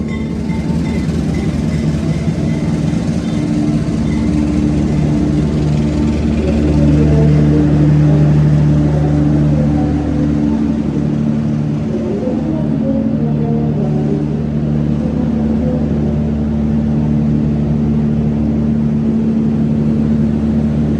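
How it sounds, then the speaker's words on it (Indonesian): A Kaligung passenger train pulls into Pekalongan station, a loud, steady low rumble of engine and wagons rolling alongside, swelling slightly midway and holding throughout with no voices. "Ini sepertinya kereta api Kaligung dari stasiun Cirebon Perujakan ya, dengan tujuan akhir stasiun Semarang Poncol."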